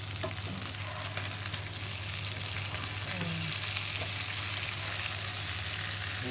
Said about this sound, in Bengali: না সুন্দর ফ্রাই হয়েছে